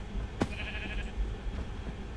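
A single sheep bleats in a blocky survival video game, one clear wavering call over a low, even background hum.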